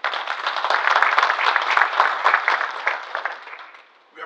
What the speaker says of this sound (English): you deserve a big round of applause